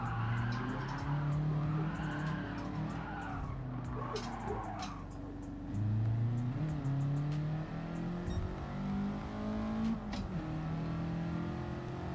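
Race car in Gran Turismo 7 or iRacing, with tires skidding and squealing under braking over a steady, loud engine drone and shifting revs throughout.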